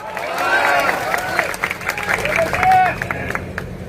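Crowd at a farmers' rally in Jetpur applauding, a loud, dense burst of clapping with cheering and shouting voices mixed in.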